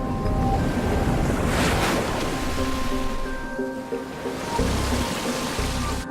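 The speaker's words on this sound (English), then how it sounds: "Coral reefs surround the island, breaking the waves into perfect pipelines" Ocean waves break on the coral reefs ringing an island in a continuous, loud roar of surf, with gusts of wind buffeting the microphone and a faint tonal hum underneath.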